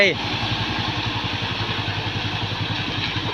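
A single-axle Volvo 400 truck straining up a slippery hill in the rain near Mae Sot, wheels slipping: a loud, close, low engine drone with a steady throbbing pulse, with voices talking over it.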